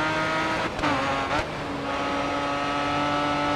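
Race car engines in an F1 racing video game, a close, continuous high-pitched engine whine with brief dips as the car brakes and shifts, then a steady run.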